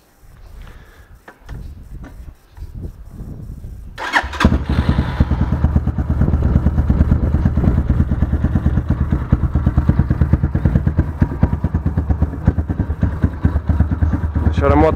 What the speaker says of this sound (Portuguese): Vamos meter o motor a trabalhar.